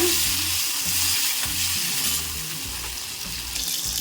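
Chopped tomatoes sautéing in a pan give a loud, continuous close sizzle and crackle for the whole stretch, with no talking.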